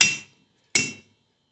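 A homemade hole punch strikes metal twice, each hit a sharp, ringing metallic clang that fades quickly, the two close-up blows spaced under a second apart.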